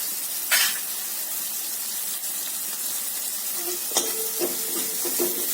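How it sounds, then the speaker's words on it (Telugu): Sliced onions fry in hot oil in a pan for a punugula pulusu, giving a steady close sizzle with a few scraping stirs and clinks. Nobody speaks. "మనం నూనెలో ఒక నిమిషం మగ్గనిస్తే లైట్గా పచ్చివాసన పోయి కొంచెం గోల్డ్ కలర్లోకి వస్తే ఉల్లిపాయలు"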